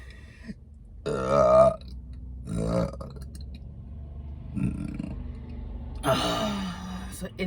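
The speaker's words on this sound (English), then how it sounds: "so internal mouth burp." Several deep, drawn-out burps from someone eating Jollibee fast food in a car, spaced a few seconds apart and close to the microphone, with quiet background between them.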